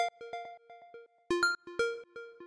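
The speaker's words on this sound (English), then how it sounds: "So this is just one square wave, and then I have it going into a low pass filter" A square-wave synth lead run through a low-pass filter plays a bright, bouncing melodic line of short, clipped notes, some louder accented hits, in an eclectic house style, with no voices.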